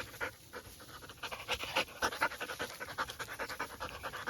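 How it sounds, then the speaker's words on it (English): Dogs pant rapidly out on an evening walk, quick rhythmic breaths close by, briefly pausing early before picking up again and continuing steadily. "I'm out here with the dogs."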